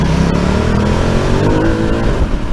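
A Ducati Multistrada Enduro 1260 motorcycle engine from 2019 drones loud and steady on a mountain hairpin, its pitch shifting as the rider drops from third into second gear, with wind rush and no talk.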